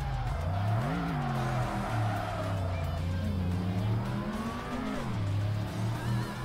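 A Mitsubishi GTO drifts in Tokyo Xtreme Racer Drift 2, its engine droning loud and close with rising and falling revs over continuous tire squeal.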